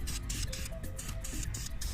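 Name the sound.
spray painting a DIY glam entrance table console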